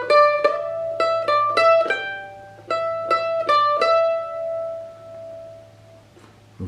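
Plucked mandolin notes from the riff in two quick phrases, each a short burst of bright picked notes, the last one left ringing and fading into quiet.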